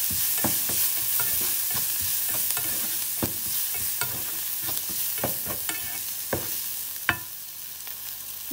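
Onions with turmeric stirred in a pan, a steady sizzle under sharp scraping clicks of a spoon against metal, repeated irregularly and fairly close, no talking.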